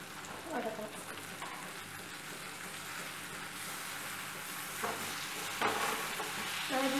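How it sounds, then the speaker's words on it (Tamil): Onions and tomatoes sautéing in a pan for kara chutney, a steady close sizzle throughout with occasional stirring scrapes and faint clinks. "வெங்காயத்து கூட இந்த தக்காளி போட்டு வதக்கணும்."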